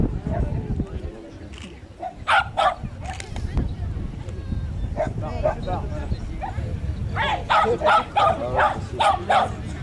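Dog barking in short sharp bursts, clustered at the start, middle and end, close by amid background voices and activity at an outdoor horse show-jumping event.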